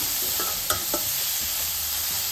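Grated carrot for carrot halwa is stirred and roasted in a pan on a stove over medium heat. It gives a steady soft sizzle with a few scraping stir strokes, close and alone.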